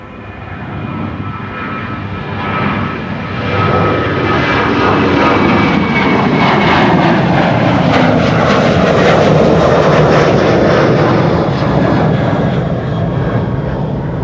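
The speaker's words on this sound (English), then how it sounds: "Definitely sure I'm hearing something with propellers." Propeller aircraft passing at Amsterdam Schiphol airport, a loud sustained engine drone with a steady propeller hum that swells and shifts in pitch as it goes by, with no other sound over it.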